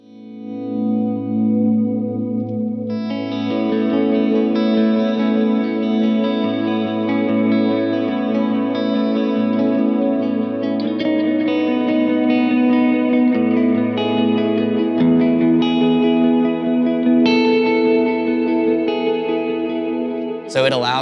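Electric guitar in a worship rig playing sustained chords through stacked eighth-note and sixteenth-note delays plus a long reverb, ringing continuously and loud with layered repeats and a shift in the low notes midway.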